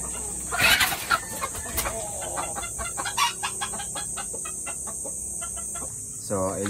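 Captive labuyo jungle fowl roosters making scattered clucks and calls over a steady high outdoor hiss, with one rooster letting out a full crow near the end.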